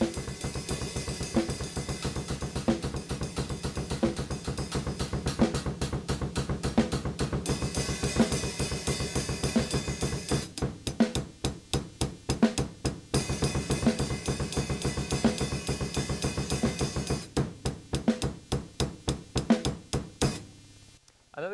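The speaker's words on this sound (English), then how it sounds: "use the 2-on-5 rhythm that I showed earlier using the double bass drum" Drum kit groove driven by a double bass drum playing a quintuplet 2-on-5 polyrhythm, dense steady kick pulses with cymbals over the top, loud and continuous with a couple of brief breaks.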